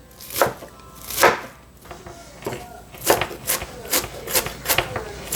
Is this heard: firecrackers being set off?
no